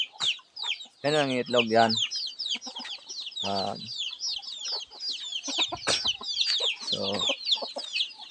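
Palawan native chickens clucking on a farm, with several soft clucks and a few chick peeps scattered through the clip, while a person talks over them in short bursts.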